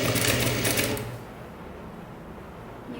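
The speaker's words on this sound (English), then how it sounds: "now I sew the sleeve and the side curve together" A sewing machine runs in a fast, steady burst for about a second, stitching the sleeve and side seam of a kimono jacket, then stops, leaving quiet room tone.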